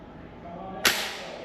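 A muzzle-loading Lee Enfield rifle fires a powder charge, one sudden sharp crack with a short echoing tail, heard at moderate distance over faint background noise.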